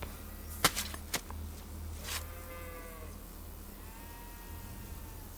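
A sheep in the Kingdom Come Deliverance 2 video game gives two short, wavering bleats after a few sharp chopping thuds, over a low steady background hum.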